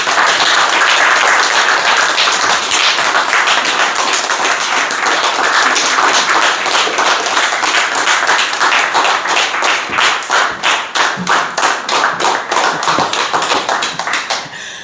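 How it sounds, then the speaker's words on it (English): Loud crowd applause at a poetry memorial event, dense at first, then thinning into distinct individual claps as it fades out near the end. "So next, let's give a round of applause for John Schindler."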